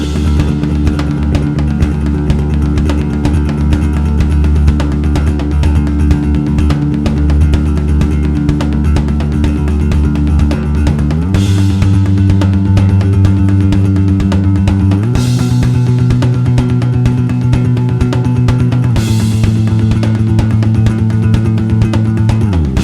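A bass guitar plays the verse line of a song at 126 beats per minute, fast repeated eighth notes pulsing steadily and loud, shifting pitch every few seconds.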